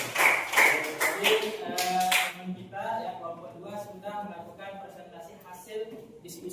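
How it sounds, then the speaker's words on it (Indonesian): A classroom group claps together in a dense burst of applause lasting about two seconds, then fades as voices of students and a teacher carry on talking nearby. "Kasih tepuk tangan dulu"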